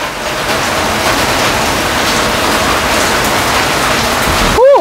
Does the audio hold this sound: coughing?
no